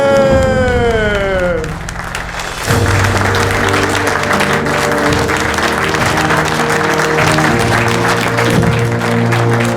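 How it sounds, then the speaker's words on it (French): A crowd at a judo event bursts into sustained applause and cheering after a brief sung or whooped note, the clapping loud and continuous to the end. "On va applaudir, chez nous."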